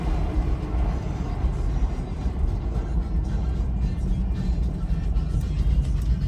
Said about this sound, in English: but it does have some wind noise